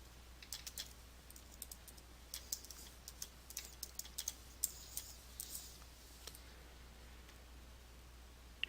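Rapid keystrokes on a computer keyboard while filling in company details in accounting software, a quiet stream of light clicks in irregular bursts over a steady low hum, with no talking.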